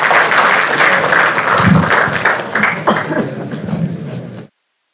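Loud audience applause fills a hall at a university inauguration ceremony, dense continuous clapping at full strength for over four seconds before it cuts off abruptly.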